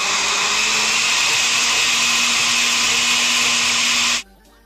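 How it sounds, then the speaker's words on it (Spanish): A blender whirs loud and steady for about four seconds, mixing cream cheese, eggs and vanilla for a cheese flan, then cuts off abruptly to near quiet. "lo vamos a llevar a licuar por 20"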